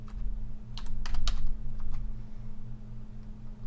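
Typing on a computer keyboard, a quick cluster of close clacking keystrokes over a low steady hum, then a few scattered taps.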